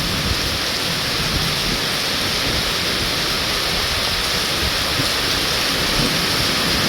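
Heavy rain pours down in a dense, unbroken roar that stays loud and constant throughout, with no voices.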